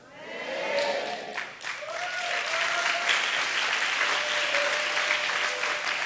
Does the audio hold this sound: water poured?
no